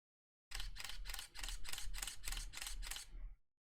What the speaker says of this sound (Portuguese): ao apertar o botão, ele vai fazer as exposições automaticamente